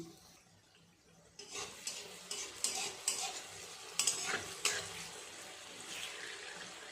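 Rasbora (sweet soaked dumplings) fry in hot oil. After a quiet second, a soft continuous sizzle begins, broken by faint clinks and stirring bursts.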